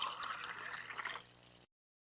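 Water running from the tap of a glass separating funnel into a container, a soft steady trickle and splash that fades and stops abruptly into silence.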